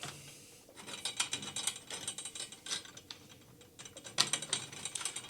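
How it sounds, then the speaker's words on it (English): Drum tension rods on a tom being threaded in by hand one at a time, close small metallic clicks and ratcheting ticks in irregular bursts, no voices. "I'm just putting them in one by one just to make sure that they're screwed in."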